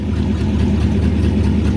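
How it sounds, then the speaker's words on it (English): A 1966 Plymouth Fury III engine rumbles steadily from inside the car while driving, a loud, even low drone with no break. "It's a 1966 Plymouth Fury 3."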